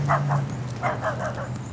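A dog gives several short yips and bow-wow barks in quick succession near a walkway through military base housing, with a steady low hum underneath.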